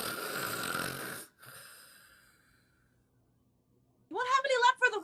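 A performer imitates loud snoring during a live read of National Lampoon's Christmas Vacation: a long raspy inhale and a fading exhale, a near-silent pause, then a burst of voiced snorting.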